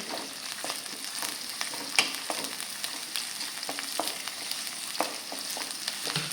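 Green chillies fry in oil with bitter gourd and carrot for a pickle, a quiet continuous crackle broken by repeated stirring scrapes and taps.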